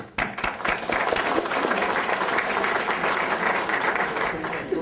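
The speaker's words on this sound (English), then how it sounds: "I think we should welcome them with a round of applause" An audience at an event honoring cultural organizations bursts into applause, sustained clapping from a crowd that holds steady for several seconds before starting to fade.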